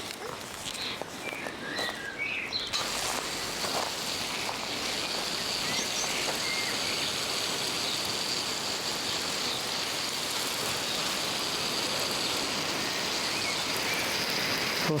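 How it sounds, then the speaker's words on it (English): Garden beds freshly sown with seeds get a good soaking, and a steady hiss of water spraying and pattering onto soil continues unbroken, close and fairly loud, with a little rustling at the start. "we'll just give that a good water"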